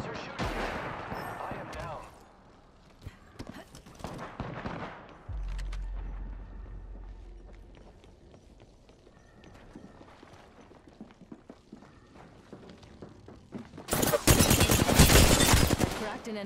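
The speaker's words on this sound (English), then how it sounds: "The enemies are shooting." Enemy gunfire in a video game, scattered shots and rattling bursts through most of the stretch, ending in a loud, dense barrage of rapid fire close up.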